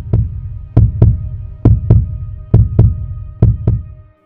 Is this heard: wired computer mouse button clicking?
no